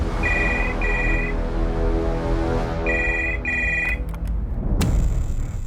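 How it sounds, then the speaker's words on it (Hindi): A telephone rings on an outgoing call: two short bursts of ringback tone, a pause, then two more, heard over a steady background hum before a click at the end. "जबलपुर इस प्रेरणा पाल को फोन करते हैं"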